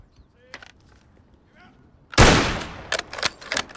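A rifle shot at Danish army shooting practice, one loud crack with a rolling echo, followed by a few sharp clicks and knocks, after faint voices and quiet field noise.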